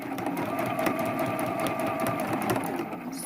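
A sewing machine runs steadily at close range while stitching the seam of a quilted throw pillow, a continuous rapid mechanical whir with no pauses.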